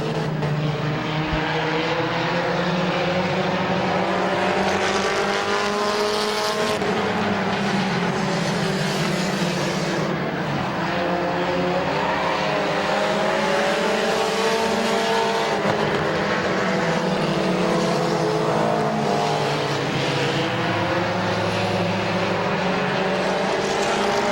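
Race cars roar continuously around the Midvale Speedway oval, engines droning and shifting pitch as they pass through lap traffic, loud and steady throughout with no talk.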